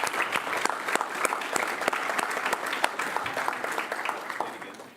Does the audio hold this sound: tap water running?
no